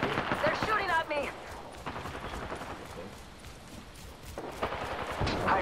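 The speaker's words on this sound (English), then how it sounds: "They're shooting at me!" Gunfire crackles in the Apex Legends Arenas video game, rapid bursts and scattered shots over a busy battle soundscape, with a player talking excitedly over the action.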